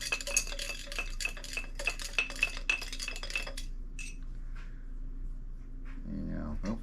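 Engine pistons are stirred around in a container of cleaning solution, making close, quick clinks and scraping rattles of metal for a few seconds before a quieter stretch with faint shop noise underneath.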